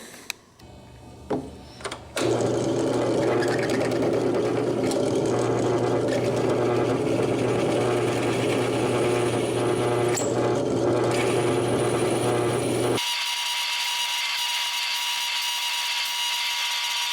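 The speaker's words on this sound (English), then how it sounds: "I'm using a diamond coated core bit." Diamond-coated core bit drilling through stone for a pendant, a steady loud grinding whine running continuously for about eleven seconds after a brief start-up, then cutting off abruptly.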